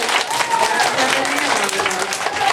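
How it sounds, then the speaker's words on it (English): Audience clapping for a seal puppet act, steady broadband applause filling the whole moment with voices mixed in. "All you better clap for her."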